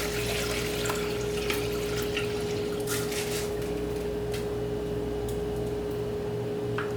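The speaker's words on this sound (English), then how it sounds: "I'm going to pour my rice into there." Rinsed sushi rice and its water tip into a strainer, a steady close splash and trickle running for several seconds with a faint hum beneath, no voices.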